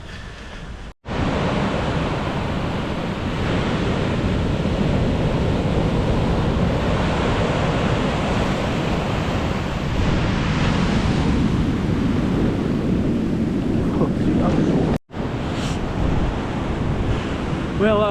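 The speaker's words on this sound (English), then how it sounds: "And the water's choppy." Choppy sea waves surge and wash continuously at Albufeira on the Portuguese coast, loud and close, with heavy wind buffeting the microphone throughout.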